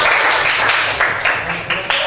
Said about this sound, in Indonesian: beri tepuk tangan untuk kelompok 4